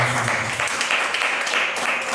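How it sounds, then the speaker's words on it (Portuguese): A church congregation applauds steadily, a dense wash of many hands clapping at once, filling the space. "Quem pode dar uma salva de palmas para o nosso Senhor Jesus?"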